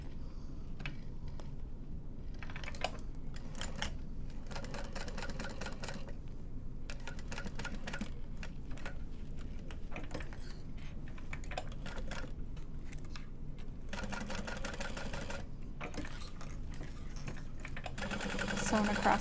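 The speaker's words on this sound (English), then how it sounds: "Sewing across the bottom." A sewing machine stitches across the bottom of a fabric bag in bursts, its rapid needle chatter starting and stopping repeatedly, close and moderately loud, with someone speaking at times.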